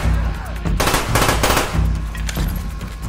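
Loud, close gunfire in Call of Duty: Black Ops comes in rapid repeated bursts of automatic shots with short gaps between them.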